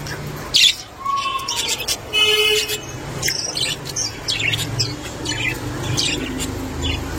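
Budgerigars chirp and chatter close by, a busy overlapping stream of bright tweets and warbles running the whole time, with no voices.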